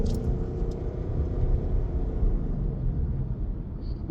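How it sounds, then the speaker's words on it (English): A 2026 Ford Mustang GT with a six-speed manual and rev matching rumbles steadily from inside the cabin, a low engine drone with a slight swell as it downshifts. "this Mustang does have the rev matching option, so you'll hear it here as I downshift."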